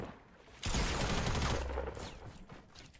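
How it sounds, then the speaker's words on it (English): Minigun in Fortnite opens up with a sudden dense burst of rapid gunfire lasting about a second, then trails off into quieter game noise. "Oh! Okay, minigun."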